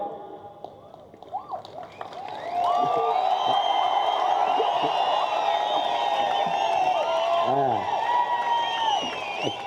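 A large crowd at a political rally in Tamil Nadu breaks into sustained clapping and cheering, loud and continuous after a quieter start, with a voice speaking over the noise.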